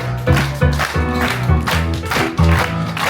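A theatre audience claps along in rhythm during a live Beauty and the Beast stage show, the steady claps blending under loud orchestral music.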